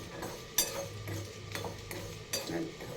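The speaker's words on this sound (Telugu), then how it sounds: "దీన్ని మంచిగా అరోమా వచ్చేలాగా వేపుకోవాలి." Coriander seeds, urad dal, peanuts, garlic and dry coconut dry roasting in a pan give a soft rustle, with a few sharp clinks and scrapes of a spoon stirring, close by with no talk.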